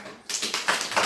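A class of children starts applauding together after a short pause, a dense close burst of hand claps pulsing in quick rhythmic waves for about a second.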